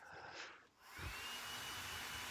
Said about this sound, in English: So here I am just hammering it with a hairdryer.